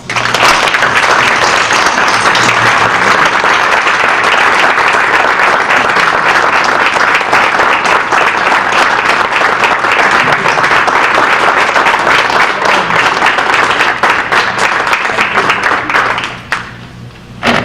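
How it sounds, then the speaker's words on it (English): A room of people applauds a high school diploma recipient at a Board of Education ceremony, steady dense clapping that holds loud for about sixteen seconds before thinning out abruptly at the end. "if everyone would give him a round of applause"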